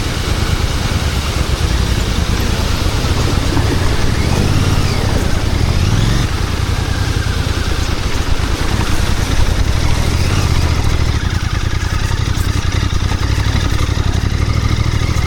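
Motorcycle engine droning loud and steady throughout a ride on a mountain road in the Darma Valley of Kumaon, with slight pitch shifts as the throttle changes and constant wind rush.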